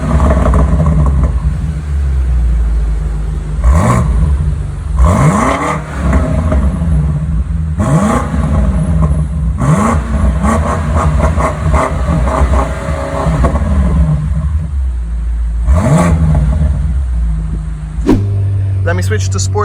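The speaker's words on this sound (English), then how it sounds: "Let's turn on the car and hear that roaring V8" A 2022 BMW M5 CS V8 engine starts and idles with a deep steady rumble, revving in several short bursts, while someone talks over it.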